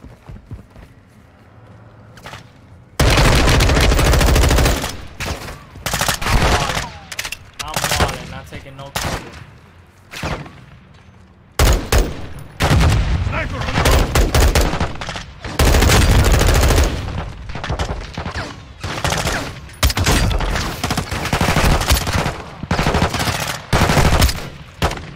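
Loud bursts of machine-gun and rifle fire during a Modern Warfare 2 campaign firefight in a yard, with repeated rattling volleys broken by short pauses and distant echoing shots.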